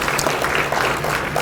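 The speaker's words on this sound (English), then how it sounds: "another round of applause." Audience applause at a community public engagement forum in Valemount, BC: a dense, steady wash of clapping from a room of people, sustained at even loudness throughout with no voices on top.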